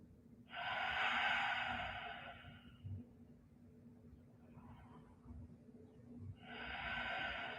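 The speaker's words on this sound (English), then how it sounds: "Breathe in through the nose. Out through the mouth." Slow, audible yoga breathing up close: a long airy exhale, a quieter pause with a soft inhale, then another strong breath beginning near the end, all without speech.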